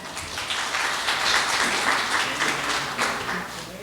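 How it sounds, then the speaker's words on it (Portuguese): A seated lecture audience breaks into applause, dense clapping with a few sharper individual claps standing out, steady and fairly loud for a few seconds. "Salva de palmas para Rita."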